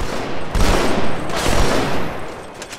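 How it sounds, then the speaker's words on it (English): Sniper rifle fire in the video game Halo 2, a few heavy booming shots in quick succession amid a loud, busy firefight with no voices. "These guys are using sniper rifles to like get point blank headshots"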